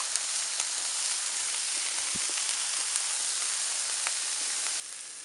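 Marinated shrimp skewers sizzle steadily on a hot plancha, a loud, continuous crackling hiss with small pops throughout, with no voices.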